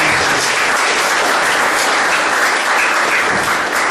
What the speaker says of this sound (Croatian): molit ću aplauz za gospodina Juricu